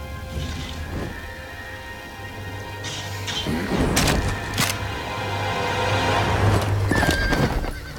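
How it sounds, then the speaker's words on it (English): A horse in the Total War: Warhammer game neighs loudly over steady hoof clip-clop, with sharp metallic clashes and thuds from nearby battle mixed in. "It's a horsey."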